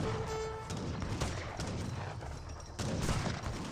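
Musket volleys and falconet cannon fire crackle and boom in a steady, dense stream during an Age of Empires 3 battle between French and Hausa armies, faint game sounds with no talk.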